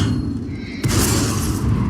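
An enemy artillery shell explodes in World of Tanks, a sudden broadband boom at close range that cuts through the steady low engine rumble of the battle and leaves a lingering roar.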